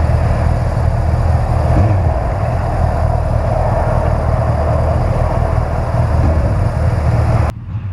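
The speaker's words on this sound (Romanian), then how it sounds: "Ce ciudat e boxerul la relanti." A BMW R1200 GS motorcycle's boxer engine idles on a test ride in Croatia, a steady, loud, close low rumble that holds evenly for several seconds before dropping away abruptly near the end.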